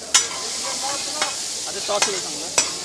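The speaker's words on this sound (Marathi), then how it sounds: "ते पूर्ण तेलामध्ये टॉस करून घ्यायचं" Pulao tossed in oil on a tawa at a small hotel kitchen: a continuous close sizzle of frying with a few sharp metallic scrape clicks from stirring, steady and loud throughout.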